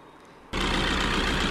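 A Maruti Suzuki Vitara Brezza's 1.3-litre DDiS diesel engine abruptly starts up and idles loudly with a steady rough rumble and clatter, heard close by in the engine bay.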